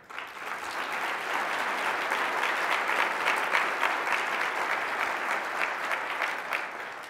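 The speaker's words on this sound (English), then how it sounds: "Let's give our school district applause for their invitation to partnership." An audience gives sustained, even applause for about seven seconds for a school district, filling a hall with moderately distant clapping.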